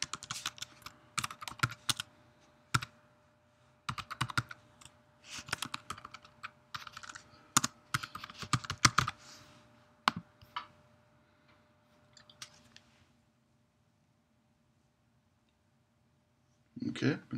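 Someone types on a computer keyboard while filling in a guestbook form with a name and email. Close, crisp key clicks come in quick bursts separated by short pauses, then stop before a final flurry near the end.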